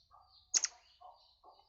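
A murai air, or forktail bird, gives a couple of short, sharp, high chirps close by, with faint softer calls before and after in an otherwise quiet space.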